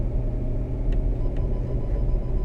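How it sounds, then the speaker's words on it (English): Wind gusts blowing snow against a parked car in winter on Pikes Peak make a loud, steady low rumble that fills the whole stretch without a break. "That's the wind, huh?"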